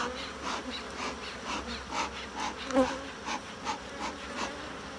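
Honeybees buzzing close around an open hive during a summer inspection, a steady dense swarm hum with individual bees flying past in brief louder swells.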